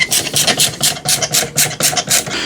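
Screws being driven into a be quiet! Light Loop LCD AIO cooler mount, heard as a close, steady series of rasping, scraping turns in quick repeated bursts with no talking.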